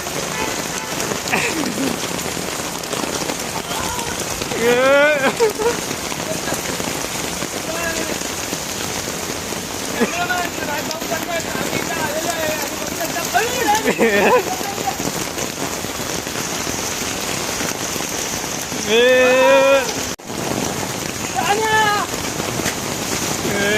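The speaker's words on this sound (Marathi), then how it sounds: "मुसळधार पाऊस दिलेला आहे, 3 तासाचा इशारा आहे" Steady heavy rain hisses throughout, with voices and a few shouts rising over the downpour now and then.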